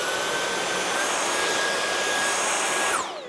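A Dyson V8 cordless stick vacuum cleaner whines loudly and steadily up close, holding a constant high-pitched roar before the motor winds down near the end.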